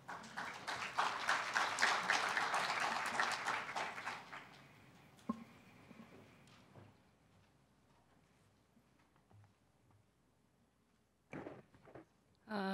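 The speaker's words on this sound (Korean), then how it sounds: "박수로 맞이해 주시기 바랍니다." A few seconds of scattered audience applause at a forum opening ceremony fades out into quiet room noise, followed by a couple of faint knocks and shuffles.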